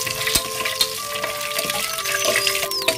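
Whole cloves, cardamom pods, star anise and cinnamon pieces sizzle in hot oil for mutton biryani, with a steady close frying hiss and scattered sharp clinks and scrapes as they are stirred in the pan.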